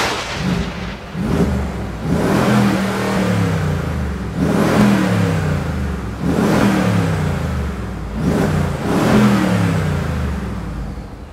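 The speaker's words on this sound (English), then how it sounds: "By now, you probably want to hear how amazing this V8 engine actually sounds." A 2011 Mercedes G63 AMG V8 revs repeatedly, four or five deep, loud throttle blips rising and falling close by, each followed by a rumbling idle.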